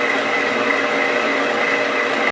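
Carrot cake batter being mixed with an electric appliance, a steady whirring drone held evenly and close throughout before cutting off abruptly at the end.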